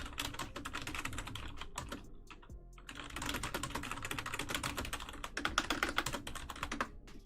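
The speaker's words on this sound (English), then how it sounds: "if my typing is too loud" Rapid typing on a computer keyboard, dense clattering keystrokes in quick bursts with brief pauses, close and moderately quiet, no voices.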